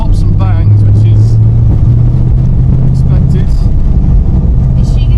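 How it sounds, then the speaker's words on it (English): An LS-swapped car with a carburettor idles and rumbles loudly up close, with a few sharp exhaust pops and bangs cutting through as a person talks over the engine. "Still getting some pops and bangs, which is"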